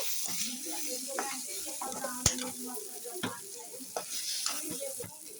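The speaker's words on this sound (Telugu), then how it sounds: "ఇప్పుడు ఇది బాగా వేగిపోతున్నాం" Tomato rice ingredients with a pinch of turmeric frying in a pan, a soft sizzle punctuated by clicking, scraping stirs of a spoon, with a faint voice murmuring in the background.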